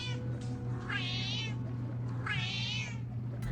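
A cat meows twice, each a drawn-out wavering cry about a second long, separated by a pause, over a steady low electrical hum in a quiet indoor room.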